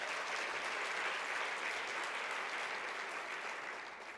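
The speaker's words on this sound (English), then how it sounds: "let's give them a round of applause as well." Audience applause at an awards luncheon, a steady dense wash of many hands clapping that holds evenly throughout and only begins to thin near the end, with no voices over it.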